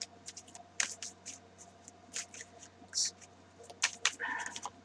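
Playing cards shuffled by hand in short riffling bursts and soft flicks, close and fairly quiet over a steady low hum, with no talk.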